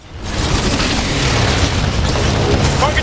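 Artillery fire landing danger close in a first-person shooter, a sustained loud rumbling barrage of booming explosions rolling on without pause, with game noise throughout.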